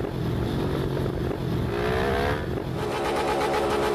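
Honda Transalp motorcycle engine accelerating on a highway in a video game, a steady, loud mid-pitched drone with rising revs midway, continuous and alone without talk.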